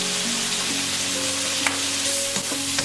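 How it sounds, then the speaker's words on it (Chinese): Stir-fried cabbage and egg seasoned with soy sauce, salt, scallions and a few drops of sesame oil sizzles steadily in a hot pan, a continuous close frying hiss with soft clinks of stirring and no voices. "翻炒一分钟即可出锅装盘。"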